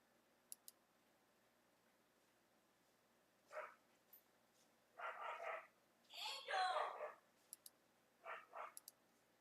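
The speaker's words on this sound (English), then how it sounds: "She's going crazy out there. Crazy dog." A dog barks frantically outside, in a few short muffled bursts that sound distant, with faint clicks in between and otherwise quiet surroundings.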